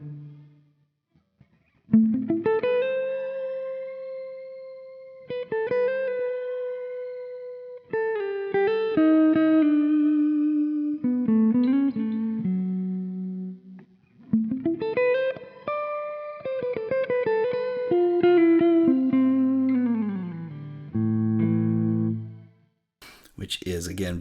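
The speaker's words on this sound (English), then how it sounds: "So in the middle, you can hear those little voices kind of echoing back. Right? It's like a shimmer verb." Electric guitar through a Coffee Shop Pedals Cortado shimmer reverb pedal, playing melodic single-note lines with sliding notes and echoing tails, moderately loud, with no talking.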